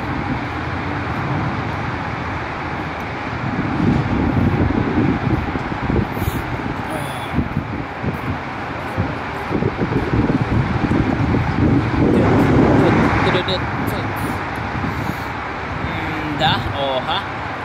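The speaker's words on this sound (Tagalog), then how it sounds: "Grabe lamig guys. Kala ko summer na pero malamig pa rin sa labas, napakalakas ng hangin" Strong, cold wind roars outdoors in a steady, loud rush, and traffic rumbles along under it while a person talks throughout.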